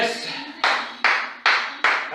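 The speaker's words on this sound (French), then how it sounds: "Applaudissez-vous à la maison" Sharp, evenly spaced claps ring out at the end of a live fitness class, four or five loud, close hand claps each trailing a short decay, following some brief speech.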